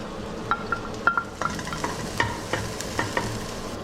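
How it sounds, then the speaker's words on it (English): Garlic, onions and shallots sauté in a hot pan with a soft, steady sizzle, punctuated by light scraping and stirring taps from a utensil at irregular intervals. No voices. "just dump the garlic, onions, and shallots all in here. And let that saute up and get a little brown."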